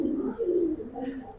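Silver Giribaz pigeons coo softly at close range in a short, faint murmuring burst with no speech.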